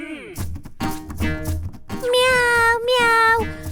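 A cat meows close by, several drawn-out cries in a row, with some short knocks and shuffles between them as it knocks over a container.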